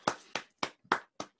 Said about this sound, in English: Everyone is clapping, Russ.